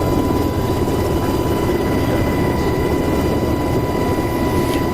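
Apache helicopter in DCS World spooling up for liftoff, a loud, steady rotor drone and engine whine filling the cockpit without break, with a sustained tonal hum on top throughout.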